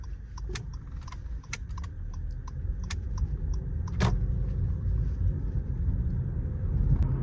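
A 2017 Acura TLX pulls away after the gas pedal is pressed, a low engine and road rumble building steadily in the cabin, with scattered clicks and small interior taps over it.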